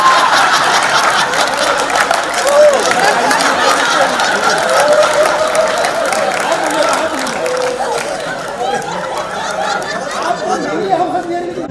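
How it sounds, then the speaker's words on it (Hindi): An audience at a live concert claps and chatters, with continuous crowd murmur and scattered applause throughout. "जनता जी को जोरदार तालियां, बहुत ताली की बजा दीजिए।"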